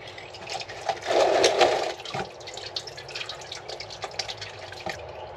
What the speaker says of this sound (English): first thing we're gonna do is empty out the oil.